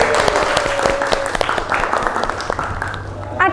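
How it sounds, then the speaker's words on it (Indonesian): A school class in an Indonesian-language lesson applauds a student, a lively burst of clapping with a few sharper individual claps and voices mixed in, trailing off near the end. "Tepuk tangan sekali lagi untuk Amel."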